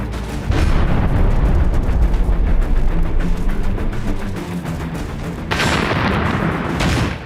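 TNT and grenades exploding inside the barrels of 105 howitzers, loud booming blasts and heavy rumble in a war battle, with a fresh burst near the end.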